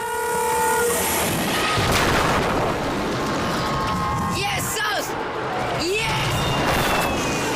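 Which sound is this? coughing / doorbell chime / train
train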